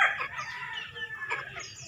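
Three-month-old pullets cluck and call nearby in a free-range backyard flock, a short burst of overlapping bird voices with no talk.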